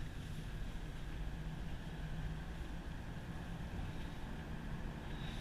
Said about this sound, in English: It's got that nice V8 rumble when you get on it.